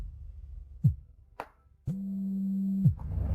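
A telephone rings in an office meeting: a steady electronic tone holding for about a second after a few brief clicks, close and clear with no talk over it.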